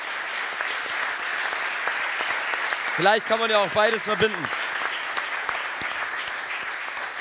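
Studio audience applause for a guest on a sports show, steady crowd clapping throughout while a voice talks briefly over it in the middle.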